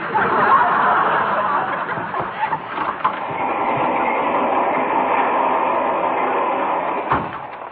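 Steady rumbling train noise fills the whole stretch, a continuous rattle and roar of a moving train with a few brief knocks.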